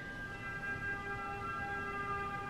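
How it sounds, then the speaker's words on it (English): Wailing police car sirens in a street in Pisa or Florence, Italy, sounding as steady sustained tones at moderate distance with no talk over them. "Oh, it's police cars."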